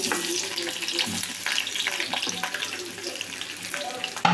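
Large chunks of onion frying lightly in hot oil for an onion curry, a continuous dense sizzle and crackle throughout, with a few soft stirring clanks in the pan.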